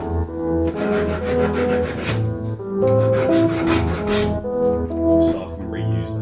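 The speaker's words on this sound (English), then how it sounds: "just grab a file, take down a bit of the surface rust" A hand file rasps in steady back-and-forth strokes across a rusty metal clip from a garage door lock, taking off the surface rust in close, repeated scraping passes.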